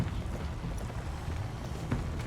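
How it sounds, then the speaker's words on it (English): Horse hooves clip-clop in The Walking Dead: A New Frontier video game, a steady run of hoofbeats blended into dense, continuous game ambience with no one talking. "Jesus looks so majestic on his horse and his man bun."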